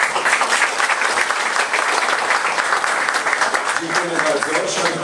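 At a cornerstone-laying ceremony for a building project, a crowd claps warmly and steadily, a thick, even patter of many hands held at full strength throughout, with a voice faintly rising beneath it near the end.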